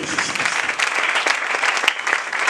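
A church congregation claps loudly and continuously, a dense burst of many hands close by with no pauses.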